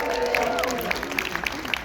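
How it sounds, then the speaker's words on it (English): A premiere audience applauds in a theater, a dense, steady clatter of many hands clapping close by, with a few sharper individual claps standing out. "Let's give them a nice round of applause."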